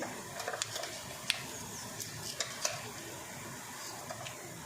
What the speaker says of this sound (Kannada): ಸಾಸಿವೆ ಚಟಪಟ ಅಂದರೆ ಒಂದು ಅರ್ಧ ಸ್ಪೂನಷ್ಟು ಜೀರಿಗೆ